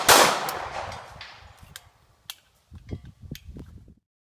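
A Sig Sauer XO 1911 pistol fires one sharp shot that rings away, followed by quieter metallic clicks and clacks from handling the gun.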